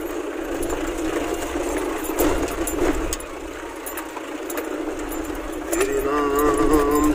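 A car climbs a steep mountain road in Uttarakhand in first gear, its engine humming steadily and rising in strain, with someone talking over it throughout.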